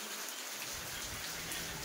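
Heavy summer rain pours down in a dense, continuous hiss, loud and unbroken with no voices.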